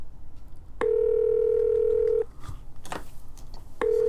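A telephone in the Police Quest IV video game: a steady dial tone runs for over a second, then a short dialing blip and another brief tone follow, close and clear with no talking.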